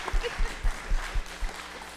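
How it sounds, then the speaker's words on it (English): A live audience at an Indigenous peoples summit gives the panelists a warm round of applause, with rhythmic claps rising and falling over about two seconds in a large room. "Please, a warm round of applause for them."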